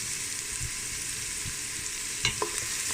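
Ingredients for a Thai tom yum fish soup sauté in a pan, a soft steady sizzle under a few light stirring knocks and a couple of quick utensil clinks near the end.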